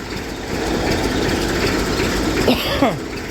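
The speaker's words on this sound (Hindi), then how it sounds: "धोने के बाद आपको ट्रैक्टर ज़रूर स्टार्ट करना चाहिए" A tractor engine idles after being started following a wash in cold weather, a loud steady low rumble with a couple of brief squeaky sweeps near the end.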